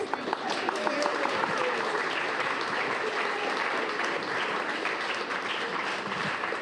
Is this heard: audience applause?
yes